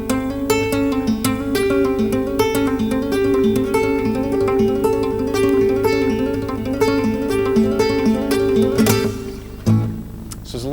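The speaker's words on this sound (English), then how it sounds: "take your second finger and do that little move between the minor third and the major third" Electric guitar lick played with the second finger, sliding back and forth between the minor third and major third in a flamenco-flavoured style, ringing continuously and fairly loud with repeated picked notes, then a brief change near the end.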